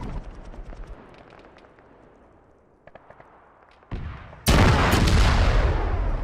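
Arma 3 combat, an aircraft hit during a gun run: scattered distant shots and cracks, then a heavy roaring blast that jumps loud and stays dense with rumbling explosion noise.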